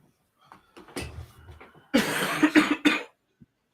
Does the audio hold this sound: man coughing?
yes